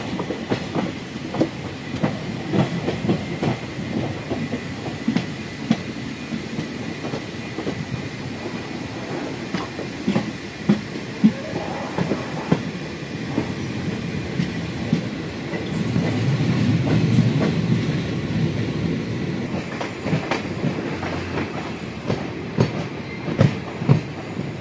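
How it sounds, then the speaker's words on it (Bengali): A train pulls out of Digboi toward Makum Junction, running past the Indian Oil refinery; steady rumble with rhythmic clickety-clack of wheels over rail joints, swelling louder partway through. "ট্রেনটি ছেড়ে তার পরবর্তী স্টেশন মাকুম জংশন রেলওয়ে স্টেশনের উদ্দেশ্যে রওনা হলো।"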